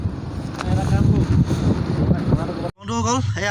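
Strong wind roars outdoors at night in Namsai, Arunachal Pradesh, a steady loud rush buffeting the microphone with a brief dropout near the end, while a person talks over it.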